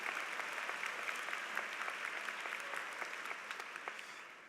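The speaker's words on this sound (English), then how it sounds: "Give them a round of applause where they are." A large commencement audience at UMBC's spring 2018 undergraduate ceremony applauds graduating staff and family members, a dense sustained wash of many hands clapping that stays steady and fades slightly toward the end.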